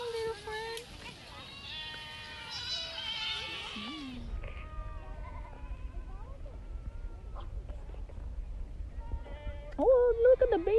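A goat bleats several times in an outdoor farm enclosure with baby goats and their mothers, the calls fairly close among other animal noises, with a person talking softly over parts of it.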